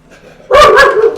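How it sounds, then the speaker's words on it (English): One loud, close dog bark cuts in suddenly after a quiet moment, a single sharp yap that trails off briefly. "so we'll hear some barking from time to time"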